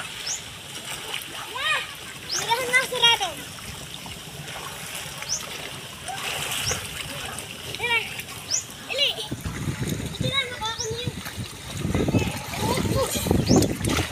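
A child swims through floodwater from heavy monsoon rain, making repeated close splashes and paddling slaps, while adults and children call out and talk throughout.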